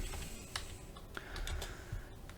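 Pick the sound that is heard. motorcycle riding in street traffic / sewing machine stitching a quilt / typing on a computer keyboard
typing on a computer keyboard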